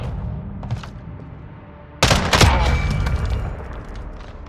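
Call of Duty Modern Warfare gunfire in a 2v2 match: low rumbling shots, then a loud, sustained burst of rapid automatic fire with sharp cracks that continues to the end.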